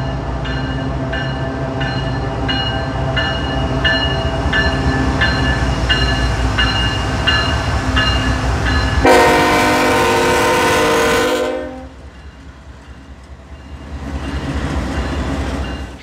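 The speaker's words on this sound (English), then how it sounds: "This is one of the few times that another train passed as they were working" A Norfolk Southern freight train rolls past on the former N&W line in Norfolk, its rumble and clatter steady before a loud, close horn blast sounds for a couple of seconds, then the noise drops and the train sound builds again.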